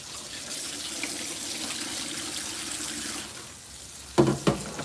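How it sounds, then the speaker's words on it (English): Running tap water pours steadily over fresh greens being rinsed in a sink, a continuous broadband splash that eases off near the end, followed by a couple of brief clattering knocks. "Wash, rinse, and repeat on these greens."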